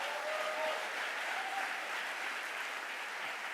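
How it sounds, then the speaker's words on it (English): Applause from a summit audience at a gun safety event in Connecticut, steady clapping across the whole stretch, moderately distant and even in level. "let's give them a round of applause."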